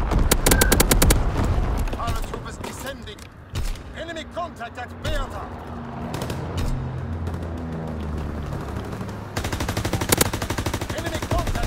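Rapid bursts of automatic gunfire from a Call of Duty WW2 multiplayer match crackle loudly in clusters at the start and end, with scattered shots and game effects in between and a player voice talking over parts of it.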